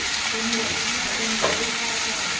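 Cumin and chili frying in hot oil for a Bengali prawn curry, a steady loud sizzle with faint tonal hums underneath and a brief stir partway through.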